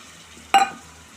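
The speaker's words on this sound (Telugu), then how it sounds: "శనగపప్పు వేసుకొని ఫ్రై చేసుకోవాలి." Soaked chana dal dropped into a hot pan to fry, a sudden loud hiss and sizzle that fades quickly within a fraction of a second.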